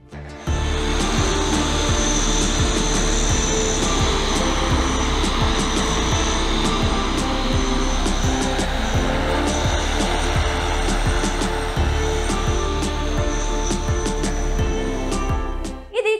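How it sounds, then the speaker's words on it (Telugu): A loud, steady whirring drone of many rotors from a 16-rotor HEXA flying car in flight at a technology expo in Japan runs throughout, close and sustained, with a few sharp clicks and no talking. "గాల్లో ఎగిరే 16 రెక్కల కారు ప్రత్యేక ఆకర్షణగా నిలిచింది"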